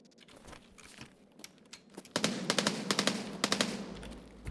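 Gunfire from a firefight in Escape from Tarkov: scattered single shots at first, then a sustained burst of rapid automatic fire, moderately distant and fairly faint, with no voices.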